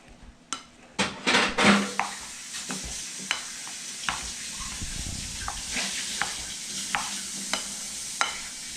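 Kim bop ingredients are mixed in a bowl, with close scraping and knocking of a utensil against the bowl in irregular strokes over a faint sizzling hiss.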